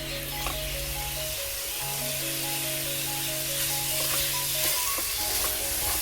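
Chicken washed with turmeric sizzles in oil with masala as it is stirred in for coconut milk chicken kulambu. A steady, loud frying hiss runs throughout, with faint tonal background music and no talking.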